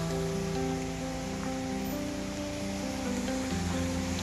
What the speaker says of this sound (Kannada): ವಾಟರ್ ಫಾಲ್ಸ್ ಹೆವಿ ಚಿಕ್ಕ ವಾಟರ್ ಫಾಲ್ಸ್